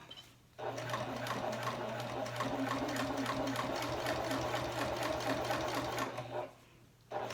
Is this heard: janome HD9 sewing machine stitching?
yes